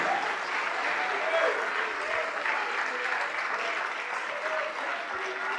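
Sustained applause from a large church congregation, an even wash of clapping with a few voices faintly audible underneath.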